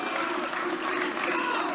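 Arena crowd applauding and cheering European wrestling champion George Steins, a dense, loud wash of clapping and shouting that continues throughout.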